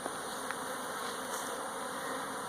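Honey bees droning steadily around an opened hive, a dense continuous buzz close to the listener with no voices.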